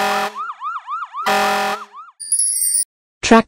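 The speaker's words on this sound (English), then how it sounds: "Fire engine." Fire engine siren wailing in rising-and-falling sweeps, loud and close, broken by short bursts of harsh blaring horn and ending with bright electronic chimes and a clatter.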